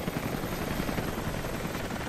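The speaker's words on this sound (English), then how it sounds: "That helicopter." A helicopter in the video game Rise of the Tomb Raider gives off a dense, steady rotor and engine roar that stays loud and even, with no voices.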